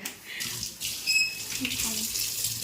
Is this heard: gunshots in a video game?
no